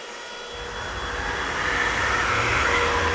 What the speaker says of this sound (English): do you think the vacuum cleaner maybe?